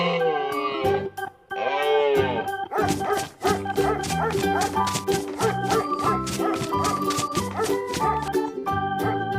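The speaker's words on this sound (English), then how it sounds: "Dog." A cartoon-style dog barks a few times among a busy, steady bed of loud music.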